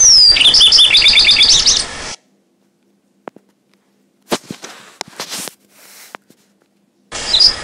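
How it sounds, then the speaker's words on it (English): A sparrow chirps in a quick burst of bright, repeated high tweets at the start. Silence follows, then a few scattered clicks and rustles, and the chirping briefly returns at the end. "Sparrow."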